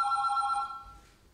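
An old-style telephone rings nearby on a theater stage, a single bright electric bell trill that fades into a quiet room.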